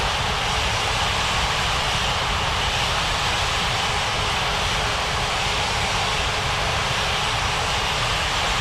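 Airplane taking off in an air traffic control game, a loud steady roar of jet engines that holds constant and close throughout, with no talk.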